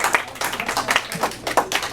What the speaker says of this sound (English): All right, y'all give a round of applause.